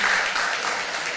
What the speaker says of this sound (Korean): 우리 한번 잠깐 일어서시면 한번 박수해 주시면 좋겠습니다.